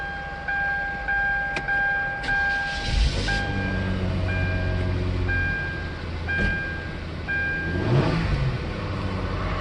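A Hyundai Genesis sedan bought at a salvage auction cranks over and settles into a steady idle, with a low engine hum running throughout and short clicking ticks scattered across it.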